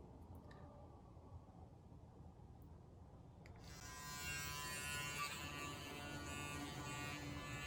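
An Oral-B iO 9 electric toothbrush starts up partway through and keeps running with a steady, close buzzing hum while brushing, with no talk over it.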